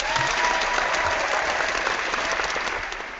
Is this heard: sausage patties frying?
no